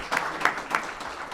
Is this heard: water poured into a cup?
no